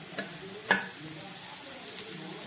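Green chillies hit hot oil in a pan of frying tarka dal, giving a soft, steady sizzle with a couple of brief clinks and stirring sounds near the start.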